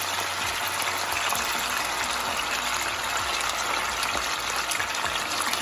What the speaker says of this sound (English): I'm just going to dump all of my vegetables right here.